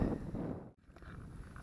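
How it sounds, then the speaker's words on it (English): Wind gusts and buffets outdoors on an autumn walk, a steady roar that drops briefly and then returns. "Windy day."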